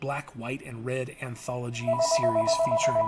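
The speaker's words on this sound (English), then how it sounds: "Sorry about the phone calls." A telephone rings with an incoming call, a steady electronic tone under a man's continuous, close speech.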